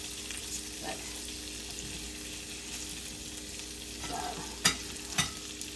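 Spam and potatoes fry in a pan with a steady soft sizzle, stirred now and then, with a couple of sharp clinks of a utensil near the end.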